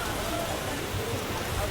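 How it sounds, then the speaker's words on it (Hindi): Heavy rain pours during a train journey, a dense, steady hiss of drops that blends with the rushing noise of the moving train throughout the short stretch. "गजब की बारिश हो रही है।"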